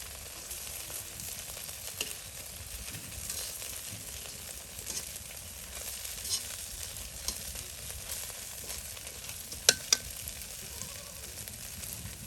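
Rice-batter Malabar spinach fritters fry steadily in hot oil in a village courtyard kitchen, a soft continuous sizzle with a couple of sharp clinks near the end.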